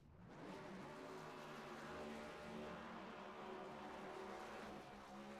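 Race cars in the iRacing game doing dueling burnouts at Atlanta Motor Speedway after a NextGen Cup Series race, a steady loud engine roar with tire noise that holds throughout with no talk.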